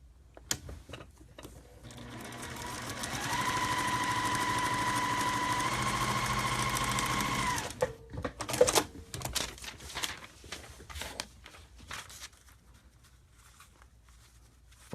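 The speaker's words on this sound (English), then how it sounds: "go back to my machine and sew" A sewing machine stitches a paper-pieced quilt block in one steady, moderately quiet whirring run of about six seconds, followed by fainter handling clicks and rustles of paper and fabric.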